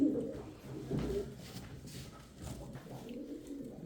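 Low, soft domestic pigeon coos repeat in rolling phrases, close and fairly quiet, with faint background rustle.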